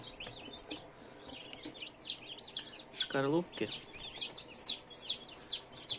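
Newly hatched chicks peeping inside a full incubator: a run of high, rapid cheeps that repeat steadily and grow louder, with a brief lower call in the middle and someone talking softly at the start.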